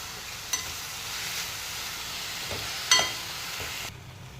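Spinach, tomato and onion with spices frying in a pan, giving a soft continuous sizzle with a few sharp spatula scrapes and clinks against the pan.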